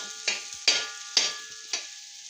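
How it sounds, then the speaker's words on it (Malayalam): Spices frying in a hot pan for a mutton dish are stirred in four distinct scraping strokes over a steady sizzle, close and clear, with no voices. "അത് ഒന്ന് ചൂടാവാൻ അനുവദിക്കൂ, എന്നിട്ട് ഇളക്കാം."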